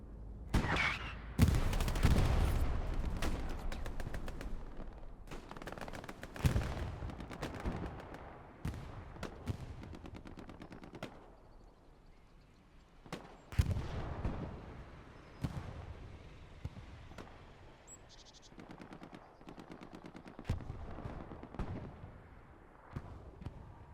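Tank cannon and small-arms fire from a Panzer IV battle in a video game: dense, loud, sharp bursts and booming blasts cracking out repeatedly at close range over a steady rumbling battlefield background, with no talk.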